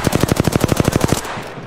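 Rapid automatic gunfire from Apex Legends, around a dozen sharp shots in an even burst lasting just over a second, loud and close, then fading out.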